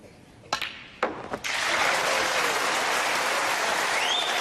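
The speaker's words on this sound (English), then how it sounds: "And listen for the roar when this pink disappears." A snooker crowd bursts into loud, sustained applause and cheering as the pink ball is potted to complete a century break by Ronnie O'Sullivan, preceded by a couple of sharp ball clicks on the table.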